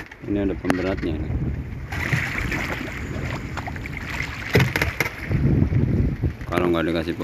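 Strong wind buffets a fishing boat at sea with a steady low rumble and gusty roar, while water chops against the hull and a voice briefly talks near the start and end.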